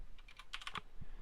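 Quick burst of computer keyboard typing as a command is entered on a VPS terminal, several close, crisp key clicks in a short run with no talk.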